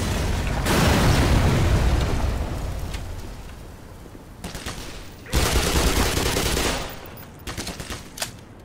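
Grenade blast and gunfire in the Black Mesa Half-Life remake, heard as a loud sustained roar of explosions and rapid shots that fades, then a second sharp burst of gunfire followed by scattered pops.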